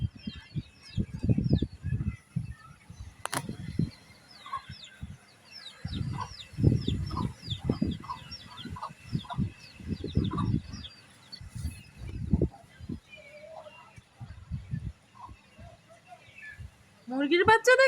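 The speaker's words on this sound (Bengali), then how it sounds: "মুরগির বাচ্চা দেখতেছো মা?" Chicken chicks cheep in quick, high-pitched runs of repeated peeps, fairly faint and in the background, while people talk nearby in the foreground.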